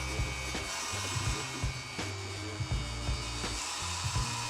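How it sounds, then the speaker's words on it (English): Heat gun blowing steadily on a 3/16-inch acrylic sheet, heating it to bend into a boat windshield, a constant airy whine with a low mechanical hum and scattered faint knocks, fairly quiet and with no talking. "We're using heat guns because these are too big to fit in an oven."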